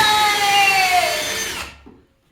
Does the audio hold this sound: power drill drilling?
yes